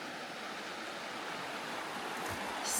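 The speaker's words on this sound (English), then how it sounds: "Camp down by the river today." A river flows past a campsite among green mountains in Alaska, giving a steady, close rushing wash of water that holds at an even level throughout and swells slightly at the end, with no voices.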